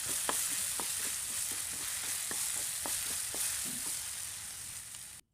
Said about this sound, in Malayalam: ഇനി ഇതിലേക്ക് അരിഞ്ഞു വെച്ചിട്ടുള്ള നേന്ത്രപ്പഴം ചേർത്തിട്ട് നന്നായിട്ടൊന്ന് വഴറ്റിയെടുക്കണം